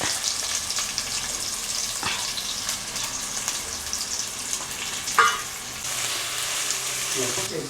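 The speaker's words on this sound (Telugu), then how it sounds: "పచ్చిమిర్చి ఉల్లిగడ్డ వేసేస్తాం. అంటే గిన్నె జర పలసగా ఉంది కదా, దబ్బున కాగింది నూనె." Green chilies and onions fry in hot oil in a thin pan, a loud, steady sizzle with occasional stirring clinks.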